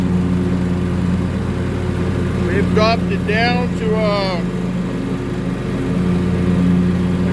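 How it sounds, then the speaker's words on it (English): A John Deere X350 lawn tractor mows grass set low at about 1.75, its engine droning steadily and close while someone speaks briefly over it. "We're out here mowing again."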